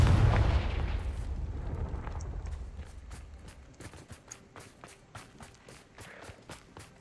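A Confringo blasting spell explodes in Hogwarts Legacy: a loud low boom opens and rumbles away, followed by a run of sharp, evenly spaced crackling bursts.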